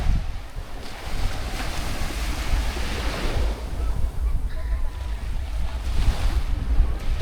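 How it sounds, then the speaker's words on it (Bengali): Waves roar steadily onto the Baltic Sea shore in Germany, a continuous loud wash of surf mixed with gusty wind buffeting the microphone, close and unbroken throughout with no talking. "ঢেউয়ের গর্জন দেখেন"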